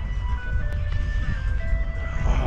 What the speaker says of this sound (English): It's an ice cream moving van.